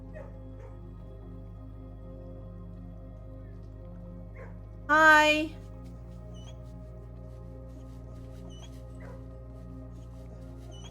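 A single short dog yip or bark from the kennel in the video game Blue Prince, over a steady low hum of game background sound, with a brief spoken greeting.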